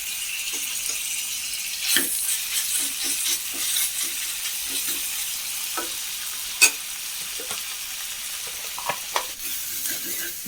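Crushed ginger and garlic being sautéed with chilli powder and spices in oil for a samosa filling, a continuous close sizzle with the scrape and tap of a spoon stirring the pan now and then.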